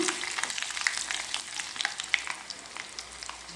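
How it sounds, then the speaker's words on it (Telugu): Mustard seeds, dried red chilies and asafoetida frying in hot oil for a raw mango pickle, giving a dense steady crackling sizzle with faint spoon stirring, close and continuous, no talk. "నెక్స్ట్ ఆవాలు ఎండుమిర్చి అండి ఇవి కూడా వేసుకుని కలుపుతూ ఫ్రై చేసుకుందాం"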